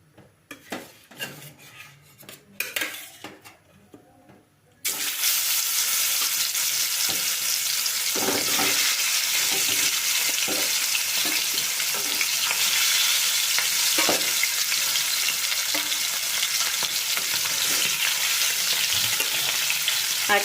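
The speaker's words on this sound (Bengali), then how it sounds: "এখন আমি এর মধ্যে মাছগুলো দিয়ে ভেজে নেব" Four pieces of arr fish drop into hot oil in a pan, setting off a loud, steady sizzle that runs continuously after a few quiet clinks of utensils.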